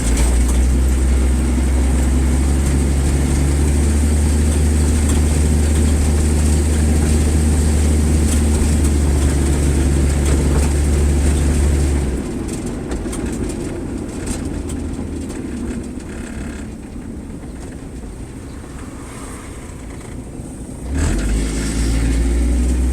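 A 1963 Ford Falcon Futura engine runs steadily with a deep, loud drone from inside the car as it drives, then the note drops as it shifts smoothly into second gear, and the engine settles again near the end.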